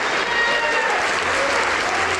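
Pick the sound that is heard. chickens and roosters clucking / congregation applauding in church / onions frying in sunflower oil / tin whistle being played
congregation applauding in church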